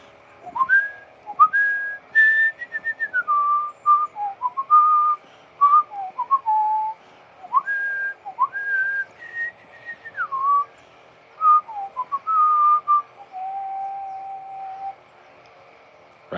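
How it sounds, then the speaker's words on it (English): A single person whistles the Song of Storms melody from Zelda alone, a clear mid-pitched tune in short rising and falling phrases with brief pauses, ending on a long held note. "Can't remember how the Song of Storm goes."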